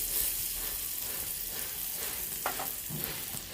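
Bay leaves, green chillies and sliced onions fry in hot oil with a steady close hiss, and a couple of stirring scrapes come near the end, with no voices.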